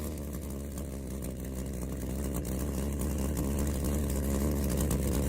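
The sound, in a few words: basic jet engine experiment with glass jar and burning alcohol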